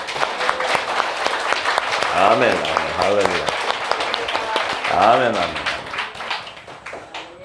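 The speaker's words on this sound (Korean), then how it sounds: "하나님께 영광의 박수 드립니다." A seminar congregation bursts into applause offered as glory to God, a bright, dense clatter of clapping over which voices call out praise words.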